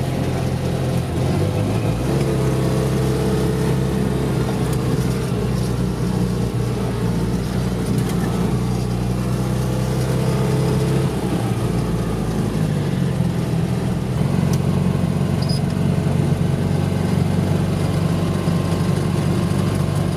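A 1958 Citroën 2CV engine roars continuously at full throttle and high revs, a loud buzzing drone with steady pitch and slight shifts, heard from close inside the vehicle.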